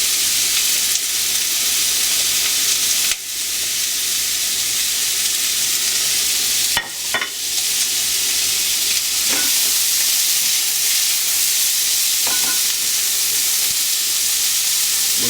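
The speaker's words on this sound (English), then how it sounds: "We're going to put in the bottoms of our bok choy and our celery." Bok choy bottoms and celery stir-fry in a hot pan for chicken chop suey, giving a steady, close, loud sizzle with a few brief clatters and stirring scrapes and no talking.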